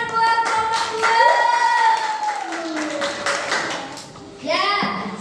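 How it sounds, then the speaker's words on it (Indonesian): Pupils in a classroom applaud a group of classmates, a busy patter of small hands mixed with children's and a teacher's voices talking over it throughout. "Ya, tepuk tangan buat kelompok"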